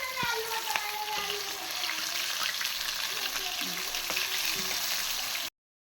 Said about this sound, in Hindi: ये चिकन को हम फ्राई करेंगे इसी तरह से सारे।